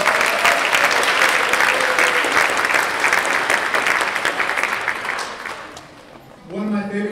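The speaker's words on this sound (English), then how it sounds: "Give yourselves a round of applause." A packed school auditorium crowd at a seventh grade music concert gives sustained, dense applause that gradually thins out, after which a speaking voice comes in near the end.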